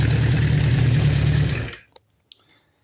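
A 1973 Honda CB500 motorcycle engine, its carburetors freshly rebuilt but not yet balanced, idles loud and steady at close range, then cuts off abruptly, leaving only a couple of faint clicks.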